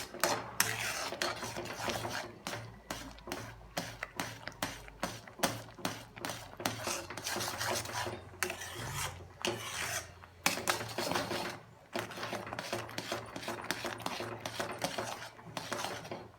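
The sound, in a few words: stirring wheat flour shiro in a pan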